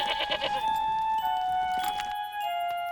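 Sheep bleat a few times over a held bell-like musical tone, with soft jingling chimes toward the end.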